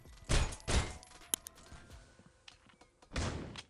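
Three sharp, close P250 pistol shots ring out in the shooter game Critical Ops: two quick shots in succession, then a pause filled with faint clatter before a third.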